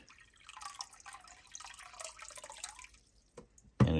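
Water trickling and splashing as it is poured into a fish tank, a soft continuous flow for a few seconds that then stops, followed by a short louder knock at the end.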